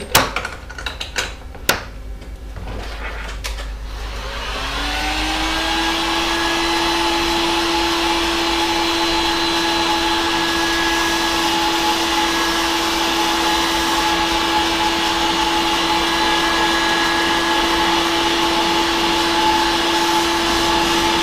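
A heat gun blows hot air in a steady, loud, unbroken whoosh with a thin whine, held for a long stretch after a few clicks and knocks at the start, while parts for a DIY hydroponic garden tower are worked on.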